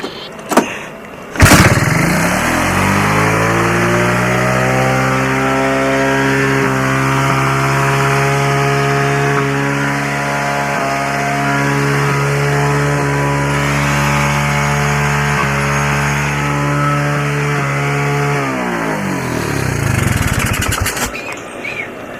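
A 1984 Honda 200S motorcycle engine, recoil-started cold, catches with a sharp burst and settles into a loud, steady, buzzy single-cylinder idle that runs evenly for nearly twenty seconds before being shut off.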